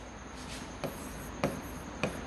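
Marker or chalk strokes on a board during a maths lecture, three short scratchy writing bursts spaced evenly over a constant background hiss.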